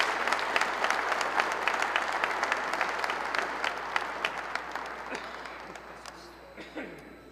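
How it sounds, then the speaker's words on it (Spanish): An audience at a retreat applauds to welcome a friar, a full, lively clapping that fades gradually toward the end, with a few voices murmuring beneath it. "les pido un fuerte aplauso para nuestro hermano"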